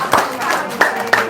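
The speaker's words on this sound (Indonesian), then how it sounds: "Tepuk tangan" Hands clap a few times at close range, three or four sharp, separate claps spaced unevenly over a short stretch, with a voice faintly present between them.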